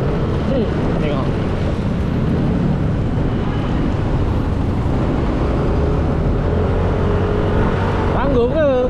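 Morning rush-hour traffic in Kuala Lumpur heard from a Yamaha NVX v2 scooter: a continuous low engine and road rumble with passing vehicles blending into a busy, steady roar.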